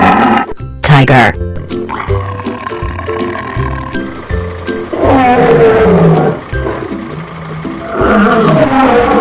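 A tiger roars in a children's wild animals video, a loud, rough growling roar amid other animal calls and playful sounds, with a voice talking over it.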